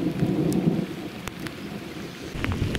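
Loud thunder rumbles over steady heavy rain during a downpour at a fishing spot, with rolling low booms and a continuous wash of rainfall close by.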